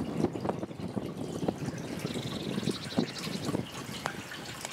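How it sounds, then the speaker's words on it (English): Water running inside an underground hole with steps, a faint trickling and dripping flow heard from some distance, with irregular small splashes and taps over a soft background wash. "And running water, can you hear it?"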